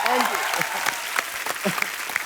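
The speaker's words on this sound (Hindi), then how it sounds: "जोरदार तालियां सिद्धू साहब के लिए।" Applause from a studio audience at a comedy talk show, a steady wash of many hands clapping, with a host's voice speaking over it throughout.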